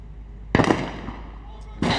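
A sniper rifle fires during a SWAT team challenge at range, two sharp loud cracks about a second and a quarter apart, each with a short ringing tail, the first shot under light voices.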